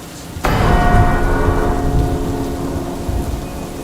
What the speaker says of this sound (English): Days stretched into weeks, and still the rain did not stop.